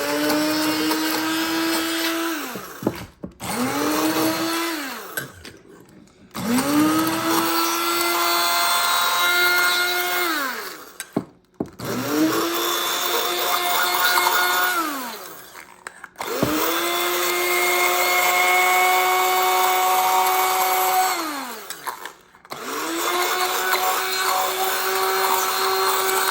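An immersion blender whirs through pesto made with pepper, running in several long bursts of steady motor whine separated by short pauses, close and loud with no talking.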